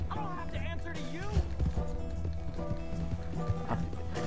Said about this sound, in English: Dude, my horse can't keep up for much longer.